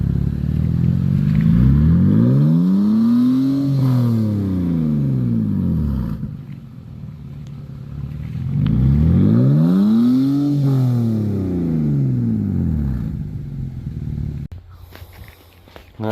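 Loud exhaust of a BMW 328i revving in two long swells, each climbing and falling in pitch, with a throaty rumble between them and no talking.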